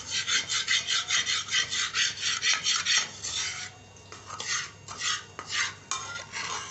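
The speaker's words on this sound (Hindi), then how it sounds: "गरम करके फिर ऊपर से मैं इसको ना इस तरह रगड़ के साफ़ कर रही हूँ।" A burnt cooking pot being scrubbed clean after heating, harsh rhythmic rasping strokes repeating quickly and close up, pausing briefly then resuming in slower uneven scrapes.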